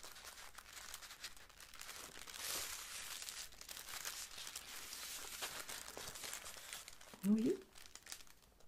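Faint rustling and crinkling of paper being handled, with one brief louder crumple and a short spoken word near the end.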